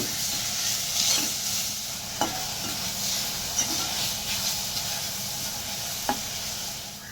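Fenugreek leaves fry in ghee with a steady, close hiss and sizzle, while a spatula stirs through them and taps the pan a few times, making brief knocks over the continuous crackle.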